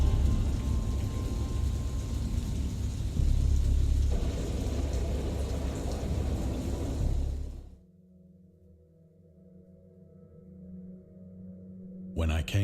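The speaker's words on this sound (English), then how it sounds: "I heard pearls of thunder and other tones which nature utters only in her wildest moods." A loud thunderstorm in the game Dagon: heavy, dense rain mixed with rolling thunder fills the first seven seconds, then cuts abruptly to a quiet low hum before a brief return of noise.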